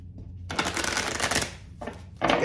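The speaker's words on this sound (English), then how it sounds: "I've got the Kipper deck here. I'm just going to shuffle a couple more times" A Kipper deck of cards being shuffled up close, a long continuous riffle of card flutter followed by a short pause and a second burst.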